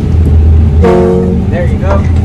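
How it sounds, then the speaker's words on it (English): A fishing boat's horn sounds off Block Island near Montauk, a loud, clear toot of about a second, followed by a shorter, fainter second blast, over steady engine and wind rumble. "Hintayin natin yung busina ng boat bago tayo magbaba."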